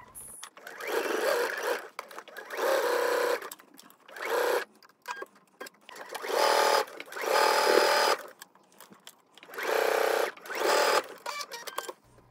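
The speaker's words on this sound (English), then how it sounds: "when I start sewing those together, I actually start at the center" A domestic sewing machine stitches a dress bodice to its lining in repeated bursts of a few seconds each, separated by short pauses, steady and close.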